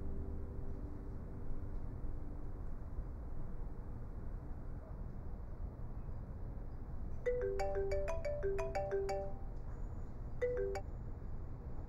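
A phone rings with a melodic electronic ringtone of short bright tones over a low steady hum, fairly quiet, in several quick bursts toward the end.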